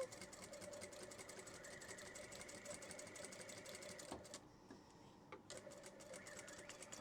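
A sewing machine runs steadily, stitching fabric pieces together for a library bag, with a short pause about two-thirds of the way through before the motor resumes its continuous whir.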